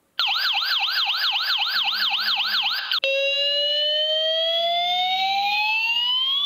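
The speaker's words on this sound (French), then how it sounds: "On a aussi le choix entre plusieurs types de sonneries." A Tuya home alarm kit siren wails loudly, first a rapid warbling tone, then switching to a rising sweeping siren, with no other sounds.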